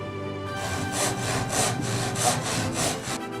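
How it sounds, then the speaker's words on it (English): A Japanese steel hand saw with crosscut and rip-cut teeth cuts through wood in about six even, rasping strokes, close and clear with no talk. "Crosscut and rip-cut teeth on a single handle. The blades are made of Japanese steel."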